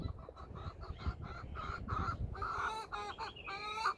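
Chickens cluck repeatedly in short, rhythmic calls close by, growing louder and more drawn out toward the end, with rustling underneath.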